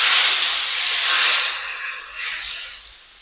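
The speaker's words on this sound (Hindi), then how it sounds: "गरम गरम तड़का शामिल कर देंगे दाल के ऊपर" Hot tadka poured over Kashmiri dal, a loud burst of hissing sizzle that starts strong and gradually softens into a steady, gentler crackle.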